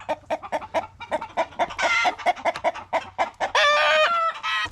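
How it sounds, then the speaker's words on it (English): An orange and black chicken on a homestead clucks in quick rhythmic bursts, close and loud, building into longer squawking calls, with no voices present. "She thinks it's a rooster. Of course, I think it's a hen."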